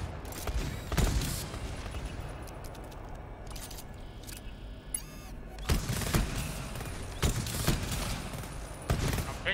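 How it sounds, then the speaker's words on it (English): Gunshots fired at a wall in the co-op shooter GTFO, several sharp loud cracks in irregular bursts with metallic mechanical clicks and rattles between them. "I just shot a wall"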